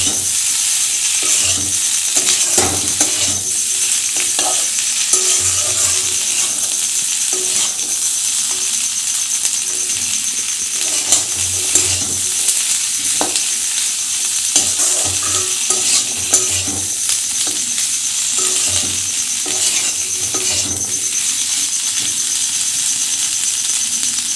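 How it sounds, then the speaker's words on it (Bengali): Ghugni masala of green peas being sautéed in a pan on a gas stove over medium-low heat, with a steady sizzle and repeated scraping stirs running close and even throughout. "ভালো করে কষিয়ে নিচ্ছি আমি গ্যাস ওভেনটা মিডিয়াম টু লোয়েতে দিয়ে একটু কষিয়ে নিচ্ছি ভালো করে"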